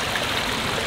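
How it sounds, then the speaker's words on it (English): A lizard running across the surface of an outdoor koi pond, heard as a brief burst of splashing and watery patter, close and fairly loud, with no talking. "This lizard's gonna run on water."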